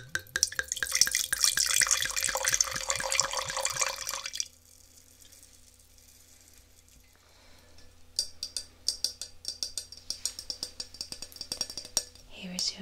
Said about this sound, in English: I will just pour that for you now.